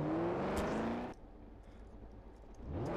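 Car engine in Garry's Mod, humming loudly with rising tones before dropping to a quieter low drone, then building again as the car drives around the city.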